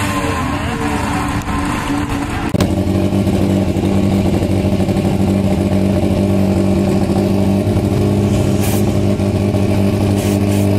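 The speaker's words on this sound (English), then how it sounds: "The nitrous just got purged." A drag race car at Excell Raceway idles loudly with a steady, dense engine drone, and a brief sharp burst near the start likely marks the nitrous purge before the rumble carries on unbroken.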